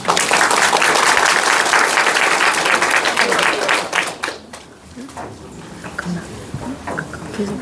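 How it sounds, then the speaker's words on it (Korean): A lecture audience claps loudly and densely for about four seconds before the applause fades quickly into scattered claps, with talking and room murmur taking over afterward. "박수 한번 주시죠"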